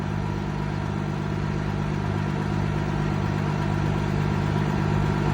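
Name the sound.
idling engine of old cab-over semi truck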